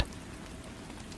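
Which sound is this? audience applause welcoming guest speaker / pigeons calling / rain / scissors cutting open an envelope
rain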